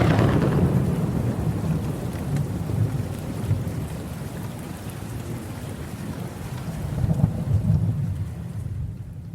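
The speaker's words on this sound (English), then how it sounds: "rain pouring down in torrents. Nothing was visible to the eye except as revealed by the frequent flashes of lightning" A heavy thunderstorm with torrential rain pouring down and low, rolling thunder rumbling steadily throughout, loud and enveloping, swelling again near the end before easing off.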